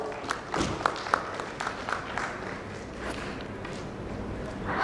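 Audience at an insurance summit and awards event gives moderate applause as a panelist comes on stage, with scattered distinct claps and shuffling footsteps in a roomy hall.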